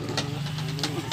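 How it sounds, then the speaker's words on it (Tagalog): Yamaha 5 HP motor running at a construction site, a steady low engine chug with a constant drone, broken by brief scraping or knocking bursts, moderately close. "Ito yung motor na ginagamit nila."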